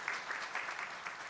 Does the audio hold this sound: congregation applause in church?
yes